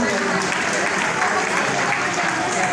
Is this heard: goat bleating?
no